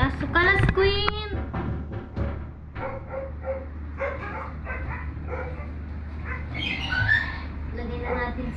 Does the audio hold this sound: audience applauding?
no